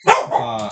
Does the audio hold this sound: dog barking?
yes